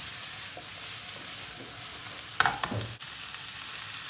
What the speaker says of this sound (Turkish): Bu aşamada biberli domatesini döküyoruz.